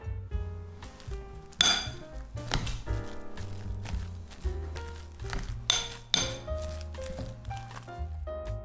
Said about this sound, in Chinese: 接着还是要继续捣，把土豆泥和芝士碎再混合均匀